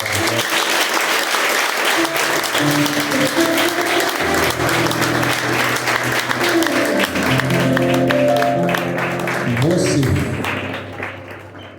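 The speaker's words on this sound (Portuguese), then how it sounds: "Uma salva de palmas às crianças." A church congregation gives the children sustained applause, dense clapping over music, fading slightly at the close.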